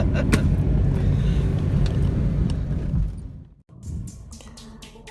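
Car being driven in a learner-driving session, a steady engine and road rumble for about three seconds, a sudden drop out, then the engine noise returning with some clicks and handling noises.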